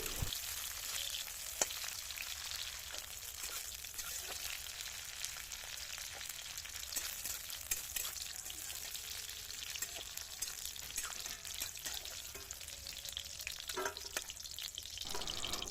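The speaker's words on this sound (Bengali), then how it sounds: "এইভাবে কাজু কিশমিশটা আমরা ভালো করে ভেজে নিচ্ছি" Soaked cashews and raisins frying in hot oil for a vegetable fried rice, giving a steady, dense crackling sizzle that runs unbroken and close throughout with no talking.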